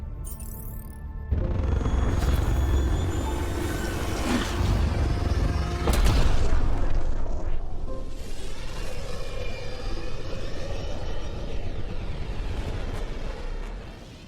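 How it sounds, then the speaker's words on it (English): Starship Tempest from the video game Mass Effect Andromeda departing, a loud sustained low rumbling roar that swells around the middle, with a sharp burst near six seconds before settling into a steady engine drone. "Nexus Control, this is the Tempest, ident 2527, prepping to depart."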